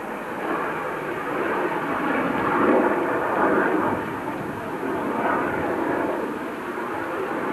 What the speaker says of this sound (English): That's not the noise of the runners, by the way, that's an aeroplane.